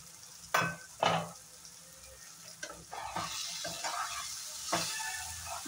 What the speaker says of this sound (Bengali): পেঁয়াজ, আলু আর টমেটোটা ভালো করে ভাজা হয়ে গেছে।